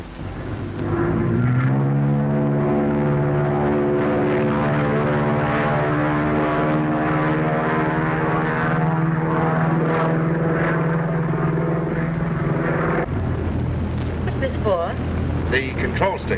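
A 1930s propeller airplane in flight, its engine droning as a steady harmonic hum that holds for several seconds before shifting to a rougher, lower tone near the end.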